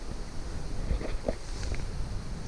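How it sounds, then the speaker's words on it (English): Wind blows steadily through trees around a tent at a wild camp on Hadrian's Wall, a broad, constant rushing with slight swells and microphone buffeting. "So the wind seems to have got up."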